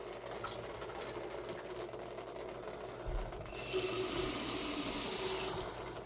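Water comes from a tap in a house with frozen water lines, a soft splashing burst that starts suddenly and stops after about two seconds, with no talking.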